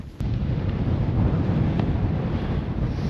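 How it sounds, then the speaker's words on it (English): Cold wind gusts steadily across an exposed ridge on Iceland's Laugavegur Trail, a constant low roar buffeting the microphone from start to finish after a brief quieter moment. "Walking on an exposed ridge. Wind blowing through, an Arctic chill."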